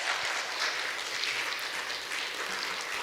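Audience applause after a paper presentation at an academic conference on Joseon-era Confucian scholars, a dense, steady burst of clapping from many hands that keeps an even level throughout.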